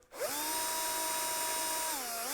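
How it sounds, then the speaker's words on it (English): A power drill whirs steadily at close range, drilling into the wood of a guitar kit, its motor pitch holding level and then dipping briefly near the end. "Drill all the way in to the neck"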